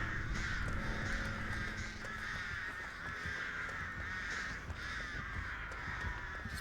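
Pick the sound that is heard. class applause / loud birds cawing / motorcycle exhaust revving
loud birds cawing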